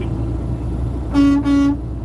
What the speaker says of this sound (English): You honk the horn real quick.